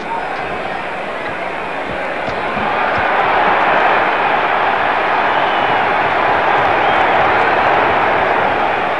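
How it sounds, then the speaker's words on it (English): A boxing crowd cheers and applauds, a broad wash of noise that swells louder partway through and holds steady, with a commentator talking over it. "Boy, the crowd liked it"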